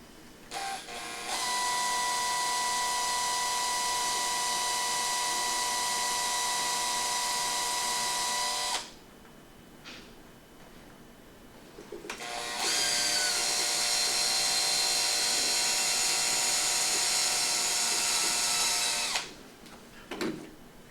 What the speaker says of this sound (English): what we're gonna do then is just drill a small hole.